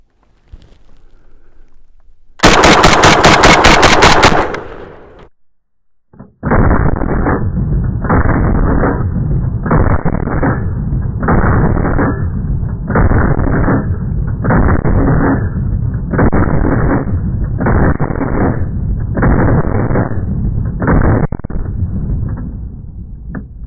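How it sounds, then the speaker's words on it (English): Panzer Arms BP12 Gen 2 semi-automatic shotgun firing buckshot in a rapid-fire string at a target, a burst of loud reports followed by about a dozen evenly spaced heavy blasts, close and dominant. "we're going to sling these bad boys at the target, and we're going to do it in a rapid fire session"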